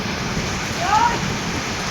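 Rain falls steadily over a village as a continuous, even hiss with no pauses and a slight swell near the middle.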